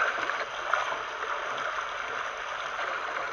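Waterfall water rushing on a jungle boat cruise ride, a steady broad hiss of falling and splashing water heard alone, fairly close and even throughout.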